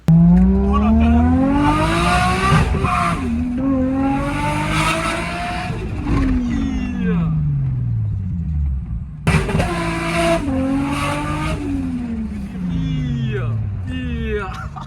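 Car on the road with engine revving up and down in repeated rising sweeps, loud and close, with talk over parts of it.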